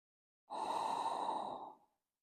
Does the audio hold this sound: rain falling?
no